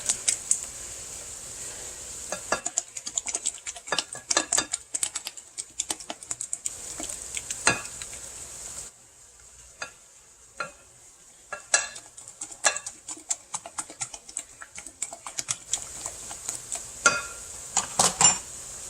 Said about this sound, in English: We're going to whisk this all together, making sure there's no lumps in the Bisquick batter